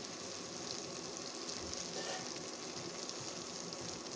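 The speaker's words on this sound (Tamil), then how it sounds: "உள்ள கருவாடுலாம் நல்லா ஃப்ரை ஆயிடுச்சு" Dried fish (karuvadu) fries in a pan as a faint, even crackling hiss that holds steady throughout with no talk over it.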